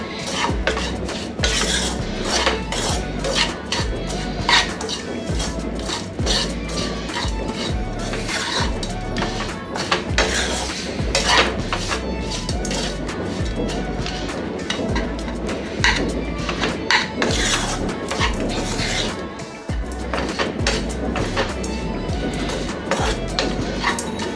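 Cooked rice mixed with salt in a bowl with a spoon: a long run of close scraping, rubbing and clinking of metal against the bowl in an uneven, busy rhythm, with no talk.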